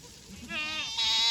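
Goat does and kids bleat together on a farm, a wavering nanny call swelling into louder, higher overlapping cries, near and continuous.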